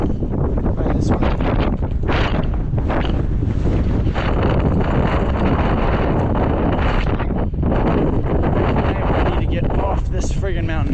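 Strong wind on Franconia Ridge along the Appalachian Trail in 2024, a loud constant roar buffeting the microphone for the whole stretch, with a voice faintly in the background.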